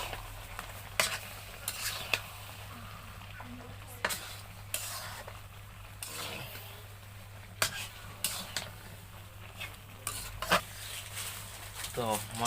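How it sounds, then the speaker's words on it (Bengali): Raw mango pickle stirred in a pan with chili powder: a soft steady sizzle with a spoon scraping and knocking the pan at irregular intervals, fairly quiet and close, with a faint voice now and then. "এরপর একটু নাড়াচাড়া করে নিচ্ছি, মিক্স করে নিচ্ছি মরিচের গুঁড়োগুলো"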